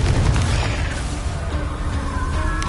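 A Confringo blasting spell going off as a loud, sustained, rumbling boom that fills the whole moment, with no break in the noise.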